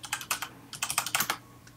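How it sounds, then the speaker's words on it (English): Computer keyboard typing during a Minecraft play session, with quick clusters of clicky keystrokes in irregular bursts, close and fairly quiet, with no voices. "I can't wait to play this back and hear all your typing."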